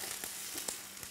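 Onions and olives fry in hot oil, giving a steady close sizzle with small crackling pops throughout.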